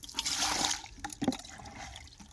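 Water trickling and splashing as it is measured and poured into a container to mix crop spray in a field; a brief, fairly faint liquid gush that fades, then a short second splash.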